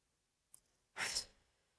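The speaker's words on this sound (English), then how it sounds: "Now take a deep breath in" A single deep breath drawn in during a calm EFT tapping session, a short soft intake followed by a clear, airy inhale and exhale lasting about half a second, close and quiet.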